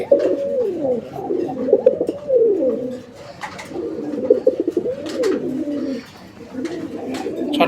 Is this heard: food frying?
no